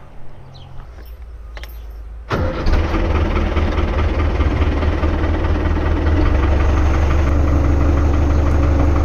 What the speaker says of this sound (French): je vais démarrer le tracteur